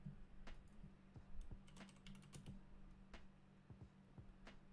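Rapid, irregular keystrokes clatter on a computer keyboard, quiet and close, with a steady low electrical hum underneath and no voices.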